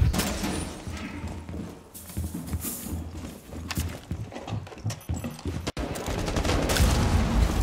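Automatic shotgun fire in a video game, a rapid sequence of sharp blasts and clattering impacts spread across several seconds, fairly quiet in the mix with no talking.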